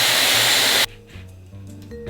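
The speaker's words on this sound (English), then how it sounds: "I'm blow drying that away from my face" A hair dryer blows loudly while drying hair into a blowout, a steady close whooshing roar that cuts off abruptly partway through, leaving quieter room sounds.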